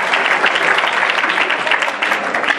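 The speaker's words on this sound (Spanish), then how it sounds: "fuerte el aplauso para nuestros patrocinadores" A large gala audience at a Spanish media awards ceremony breaks into loud, sustained applause for the sponsors, a dense steady wash of clapping with no voices over it.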